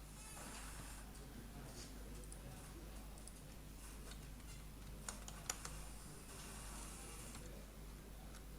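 Computer keyboard typing while coding PHP in Visual Studio Code: faint, sparse key clicks, with a couple of slightly sharper taps, over a low steady background hum.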